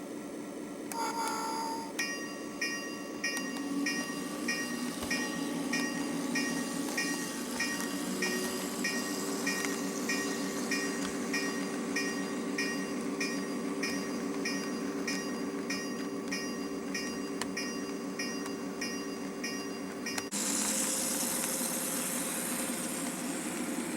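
A train on the J&A railroad rumbles and rolls steadily along the rails out of the yard, with a continuous engine drone, faint bell-like tones and metallic clanks under a sustained, fairly loud ride.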